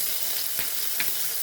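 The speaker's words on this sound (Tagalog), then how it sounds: "Magsangag tayo ng kanin." Cooked rice frying in a pan for garlic fried rice, a dense steady hiss with a couple of soft stirring scrapes, close, with no voices.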